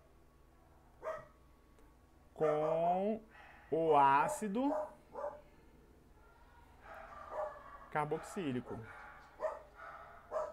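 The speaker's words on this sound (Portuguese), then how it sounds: "Meu cachorro vai latir." A pet dog barks and yips several times nearby, in short clusters of sharp barks, while a person keeps talking in Portuguese throughout.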